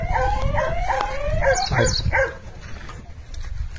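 A farm dog guarding crops against monkeys barks and yelps in a quick series of sharp, fairly close barks, then falls quiet with low background noise.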